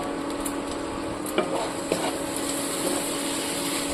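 A spice masala of chili powder, turmeric and salt is stirred in a hot pan for Bengali mutton kasha, with soft scraping strokes and a few sharper knocks over a low, constant sizzle.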